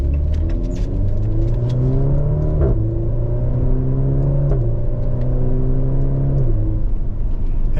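A Maserati Grecale GT SUV with a 2-liter four-cylinder hybrid engine accelerates hard, its engine note climbing through three gear changes with brief dips between shifts, heard steadily from inside the cabin.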